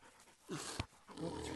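Hunting dogs pant and snort close by after a boar hunt, quick ragged breaths with a brief sharp snuffle in the middle.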